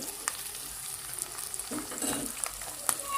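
Masala eggplant ingredients with spices such as cloves sizzling and frying in a pan, a soft steady crackle with a few sharper pops and a brief stir midway, heard alone.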